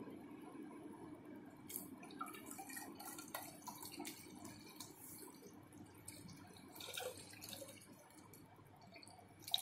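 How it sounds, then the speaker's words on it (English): Water runs from a lab tap into a graduated hollow measuring tube, a faint steady trickle with scattered drips and splashes and a low hum of the room behind it. "we take a measuring tube like this and fill it with water."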